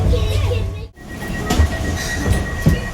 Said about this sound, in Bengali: তো আমাদের ট্রেনটা এই জায়গায় এসে কিছু সময়ের জন্য থেমেছিল